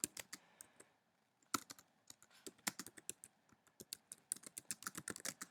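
Keys clack on a computer keyboard in quick, irregular bursts of typing, close and crisp, with a short pause early on before faster keystrokes resume.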